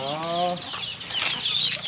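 Chickens on a farm cluck and squawk nearby in a short, busy burst, with a faint rustle like flapping wings and light background noise.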